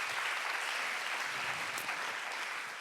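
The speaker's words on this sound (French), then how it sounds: "Je pense qu'on peut applaudir ce chiffre." A conference audience applauds at a Financi'Elles gathering, a steady, even patter of many hands that is moderately quiet and heard on its own without speech.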